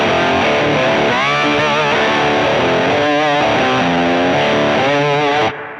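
An electric guitar amplifier captured through a Two Notes Torpedo Captor X load box: a loud, heavily distorted chord-and-riff passage with sustained saturated tone that cuts off abruptly near the end.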